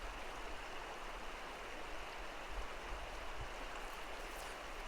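A shallow stream riffle flows steadily around someone wading while nymph fishing, a constant broad rushing wash of moving water with no talk.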